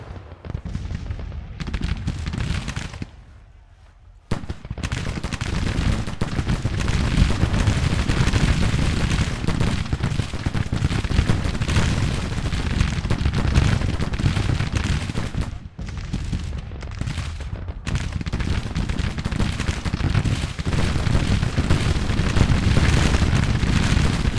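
Continuous bursts of musket gunfire and booming artillery blasts from the video game Grand Tactician: The Civil War roll on without pause, loud and dense, with brief quiet gaps between volleys.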